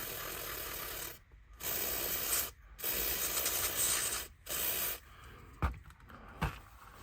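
Contact cleaner sprays onto the armature of a 3-rail Graham Farish Dublo model locomotive in several loud, close hissing bursts separated by short pauses, followed by two soft knocks.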